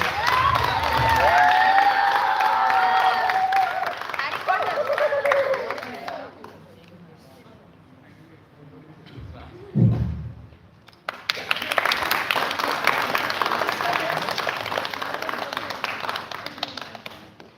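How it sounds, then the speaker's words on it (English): A crowd at a space camp's final-day stage show claps and cheers for a performer; loud applause fades to near quiet, then a fresh burst of clapping swells back up and carries on. "Come on, everyone, a round of applause."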